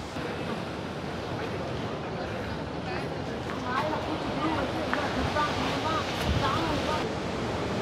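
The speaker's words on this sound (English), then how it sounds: "I am recording this video in this awesome seaside setup." Seaside waves on Pondicherry beach give a continuous broad rush of surf mixed with wind buffeting the microphone, steady and fairly loud, with someone talking over it throughout.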